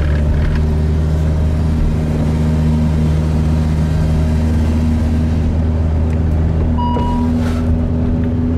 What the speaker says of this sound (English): So there's not much that beats the noise of this. Yeah, sound of a V10.